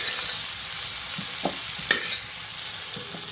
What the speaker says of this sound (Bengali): চিড়ে লঙ্কাগুলো দেওয়ার পর আরও কিছুক্ষণ ভেজে নিচ্ছি, তারপর তুলে নিচ্ছি